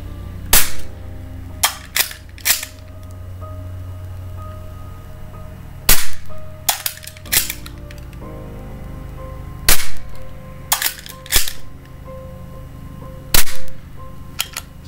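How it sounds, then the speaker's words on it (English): A Marksman Repeater .177 caliber air pistol fires a series of sharp, loud, close snapping shots in irregular groups of two to four, with quiet gaps and faint mechanical clicks between them. "So let's go ahead and fire. So we're gonna fire this."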